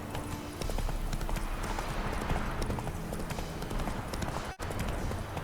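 Steady rhythmic hoofbeats of a horse trotting in The Witcher 3: Wild Hunt video game, a continuous clip-clop with game ambience underneath, one brief dip near the end.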